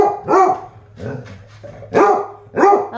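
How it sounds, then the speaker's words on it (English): A dog barks in several sharp bursts, close and fairly loud, with short pauses between, while someone nearby tries to calm it. "Hey, hey, hey, no barking."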